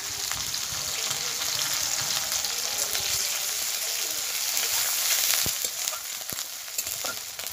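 Onion, four green chillies and ginger paste frying in oil left from frying fish, a continuous close sizzle broken by sharp stirring scrapes and clicks, with no speech.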